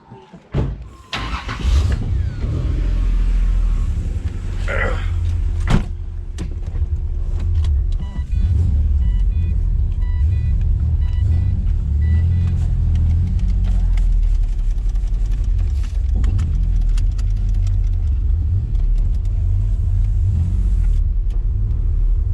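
A car with a turbo V6 and a T56 manual gearbox pulls away and drives, its engine rumbling loud and steady close by, with a few clunks and bumps from the cabin and some talk over the drive.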